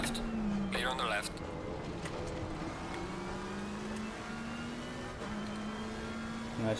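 Race cars from Assetto Corsa Competizione at the Zolder circuit run side by side, a steady engine drone shifting pitch as a rival passes alongside, with a brief whooshing sweep early on and a talking voice over it.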